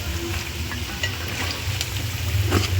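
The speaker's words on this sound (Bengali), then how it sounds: "আলু ভাজা দিয়েছি অল্প করে, তেল গরম হয়েছে নাকি দেখার জন্য এবার পুরোটা দিয়ে দিচ্ছি।" Potatoes sizzling and frying in hot oil in a home kitchen, a steady dense crackle with occasional louder pops, close and continuous, no voices.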